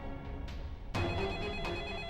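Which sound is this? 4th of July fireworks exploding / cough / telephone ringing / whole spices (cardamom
telephone ringing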